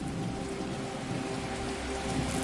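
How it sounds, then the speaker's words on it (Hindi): Heavy rain pouring outside during a night in a horror film: a dense, continuous hiss of a downpour on surfaces, steady and enveloping with no pauses and no voices. "बाहर मूसलाधार बारिश शुरू हो चुकी थी।"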